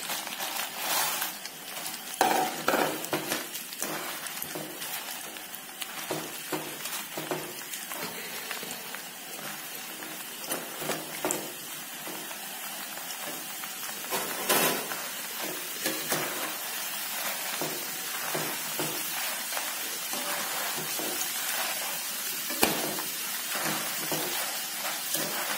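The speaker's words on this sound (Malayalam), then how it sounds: "അപ്പോഴത്തേക്ക് നമുക്ക് കടല പൊട്ടു കടല ഇടാം" Chickpeas and roasted gram frying in hot oil for homemade Kerala mixture, a steady dense sizzle like rain on a surface, crackling continuously close up with occasional louder pops and stirring clinks.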